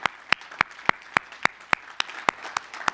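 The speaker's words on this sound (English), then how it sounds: "let's give our Heavenly Father a hand clap of praise right now" Rhythmic hand clapping of praise at a church worship service, about a dozen sharp, evenly spaced claps over a soft room background, with no talking.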